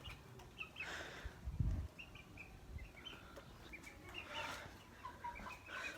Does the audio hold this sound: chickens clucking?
yes